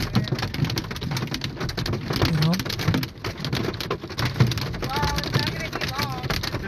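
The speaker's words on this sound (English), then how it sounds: "here's the video of the hail coming down just outside of Espanola yesterday. You can hear it coming down on the car." Hail rattles down on a car roof just outside Espanola, Ontario, a dense irregular patter of hard hits close around the listener, with bird calls and voices mixed in.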